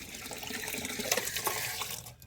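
Water pours from a small container onto the base of a plant, a soft, steady trickle and splash lasting a couple of seconds before stopping, quiet and close.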